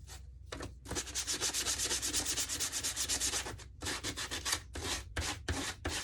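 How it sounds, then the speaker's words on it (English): Sandpaper of 80 grit rubbed by hand over a surface in fast, steady back-and-forth strokes, loud and close, in several runs broken by short pauses. "give it a good old rubbing down with your sandpaper"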